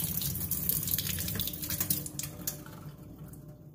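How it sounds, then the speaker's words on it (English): Tap water runs steadily into a kitchen sink as lettuce is rinsed, a close splashing gush that lasts throughout and eases slightly toward the end. "What I'm doing first, I'm going to wash my lettuce."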